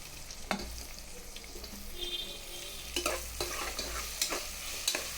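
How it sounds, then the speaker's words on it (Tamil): Tomatoes fry in oil with ginger-garlic paste for chicken biryani, giving a soft steady sizzle broken by occasional scraping clicks of a spoon stirring the pan. "தக்காளி நல்லா வதங்கிடும்."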